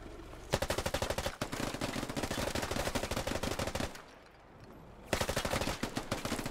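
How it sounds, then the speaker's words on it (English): Sustained automatic gunfire in a military shooter game, a dense rapid rattle of close shots that breaks off briefly, then resumes loud and rhythmic. "They're shooting at me."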